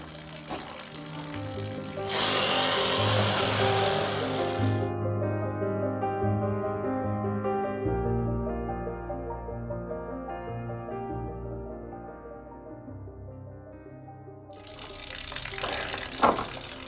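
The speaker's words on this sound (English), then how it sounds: "this is an old radiator pipe I'm cutting off, and I guess it could be quite a lot of water in there" Water gushes from an old radiator pipe as it is cut off in a basement, a loud broadband pour that starts abruptly, runs for several seconds, then eases into a lower trickle and surge near the end.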